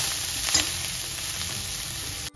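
Paneer cubes sautéing in a hot pan for a mushroom paneer masala, a steady close sizzle and hiss with a few faint stirring scrapes, no voices.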